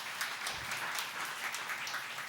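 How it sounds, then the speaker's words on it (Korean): Church congregation gives a short burst of encouraging applause, a soft, even patter of many hands clapping at a distance for a couple of seconds. "격려의 박수를 해줍니다"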